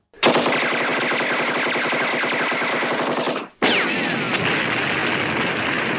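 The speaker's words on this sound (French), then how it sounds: "Tester le flingue sur de la hutte en brindilles." Movie gunfire as Chinese guns are tested on twig huts: sustained loud automatic bursts in two long volleys broken by a brief gap, close and harsh, with no speech.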